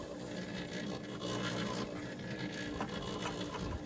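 Mixer churning grain chicken scratch feed with wheat middlings, a steady continuous rattling and scraping whir that runs unbroken at close range with no voices.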